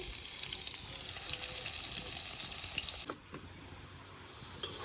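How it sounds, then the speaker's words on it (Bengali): Chopped onion for chow mein fries in a pan with a soft, steady sizzle, faint and continuous, with a few small clinks and stirring sounds. "এবার পেঁয়াজটা ভাজা হয়ে গেছে"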